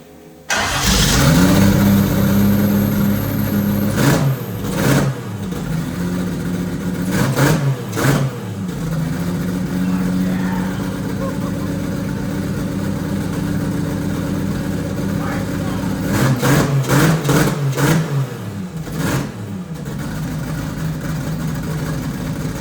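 A Toyota 2JZ engine in a Suprica cranks and fires, then settles into a loud, steady run, with two bursts of rapid revving partway through and near the end.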